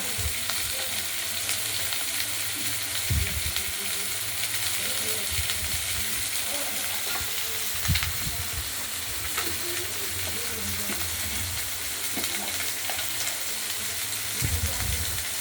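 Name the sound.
drumstick stalks frying and being stirred in oil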